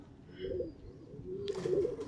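A Madras pigeon gives a soft, low coo up close, a short murmured call followed by a second longer one, quiet and alone.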